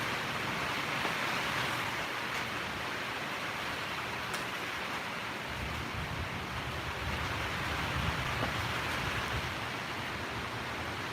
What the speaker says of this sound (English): it's storming out there pretty good.